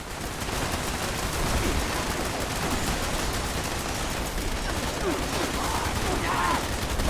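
Gunfire from the video game Fallout 76 runs as a dense, steady barrage of shots for the whole stretch, loud and unbroken.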